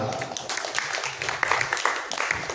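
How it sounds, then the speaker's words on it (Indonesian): A church congregation applauds during a service with a dense, continuous wash of many hands clapping, steady and fairly loud from start to finish. "Beri tepuk tangan bagi Tuhan."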